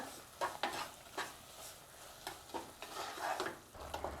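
Carrot halwa with condensed milk and sugar being stirred in a pan, quiet irregular scrapes and pushes of a spoon over a soft low sizzle.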